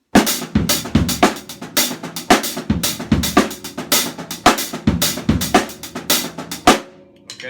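A drum kit plays a linear African-style groove in which no two limbs strike together, a close, loud, steady pattern of alternating kick, snare and cymbal hits that stops abruptly near the end.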